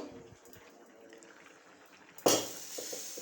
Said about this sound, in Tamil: இப்போ வாழைப்பூ வெந்துக்கிட்டு இருக்கு